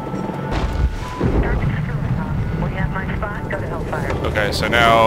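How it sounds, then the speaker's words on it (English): A military helicopter roars and whines in Medal of Honor 2010, a loud continuous rotor and engine drone with shifting pitch and rumble, while someone talks over it. "I almost fucking hit that other helicopter."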